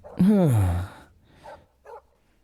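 A dog gives one loud, close bark with a falling pitch, then two fainter, shorter yips follow after brief pauses, with quiet between them.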